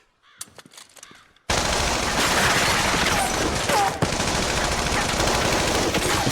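An AK rifle fired in a TV drama: after a quiet second and a half, loud sustained automatic gunfire erupts and rattles on without pause, with a sharp burst near the four-second mark.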